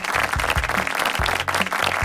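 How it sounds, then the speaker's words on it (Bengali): A studio audience at an Eid special reality talent show claps loudly and steadily for the performances. Dense, continuous applause with no talk over it. "জোরে একটি করতালি হয়ে যাক তাহলে।"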